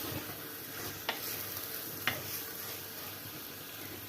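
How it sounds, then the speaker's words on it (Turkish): Carrots and potatoes stir-fried in oil for a pea and tarhana stew, a steady close sizzle with two sharp scraping clicks of a utensil against the pan, no voices. "Şimdi patatesimi katıp biraz da patatesimle şöyle yağda çevireceğim."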